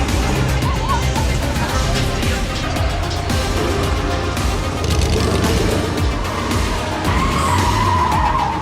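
A drifting car skids with loud, sustained tire squeal and engine roar, the noise steady and close for the whole stretch, with faint crowd or voices underneath.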